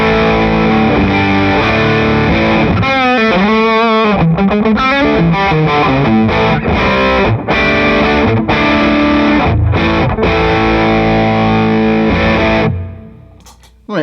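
Electric guitar driven through a Rat distortion pedal, thick, saturated and loud, with sustained chords, bends and choppy riffs that end in a fading note, heard alone without speech.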